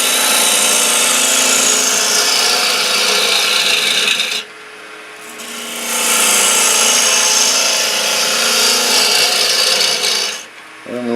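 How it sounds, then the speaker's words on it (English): A bowl gouge scrapes inside a wooden bowl spinning on a lathe, a loud continuous rasping hiss that briefly drops away, returns and then fades near the end, close and without speech. "I can come into the bowl gouge and come clear back in and scrape around"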